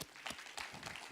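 A short burst of audience applause at a conference talk, dense clapping that starts abruptly and stays moderately loud for about a second.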